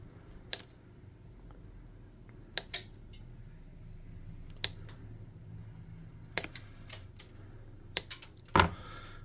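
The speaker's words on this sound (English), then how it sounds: "And then we're going to snip these off at a good length." Sharp, isolated snips sound as small pieces are cut to length for a miniature tabletop gun barrel, about ten crisp clicks spaced irregularly in a quiet room.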